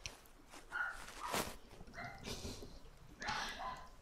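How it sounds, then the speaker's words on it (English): A dog barks faintly at a distance in a few short bursts spaced a second or so apart, heard against a quiet background. "I can hear her barking."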